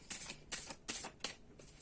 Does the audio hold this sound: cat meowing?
no